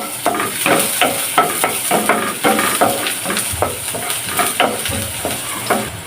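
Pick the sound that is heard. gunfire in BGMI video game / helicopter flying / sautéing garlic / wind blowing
sautéing garlic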